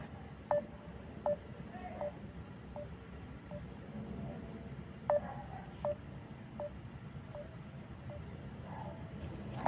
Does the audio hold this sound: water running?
no